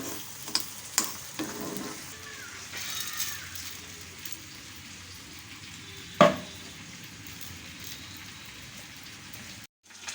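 Grated coconut and roasted spices are sautéed in a pan with the stove switched off, giving a quiet, even crackle and sizzle throughout, with a few light scrapes and one sharp knock of the utensil partway through.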